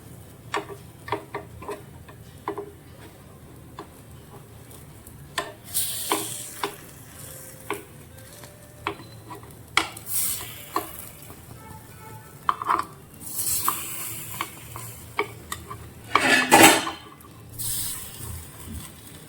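A Gujarati batter snack cooks in a pan over a medium flame with scattered clicks and scrapes, then clatters and sizzles as it is flipped, with a louder clatter near the end and no talking.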